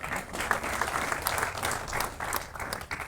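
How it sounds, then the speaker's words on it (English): Steady audience applause from a seated crowd at a public address in Kenya, continuous dense clapping throughout with no talk over it. "Let's give him another round of applause."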